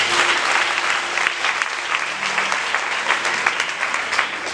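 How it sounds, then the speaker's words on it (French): A church congregation breaks into loud, sustained applause at a worship service, the clapping dense and steady for several seconds with a faint hum underneath and no clear talk. "Acclamez le Saint-Esprit."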